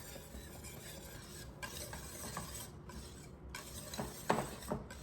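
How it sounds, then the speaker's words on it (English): A whisk stirs instant mashed potatoes in a pan, a soft continuous scraping swish with light sizzling beneath and a few small metallic clinks near the end, quiet and close. "You can use a whisk and see how quickly this is gonna come together."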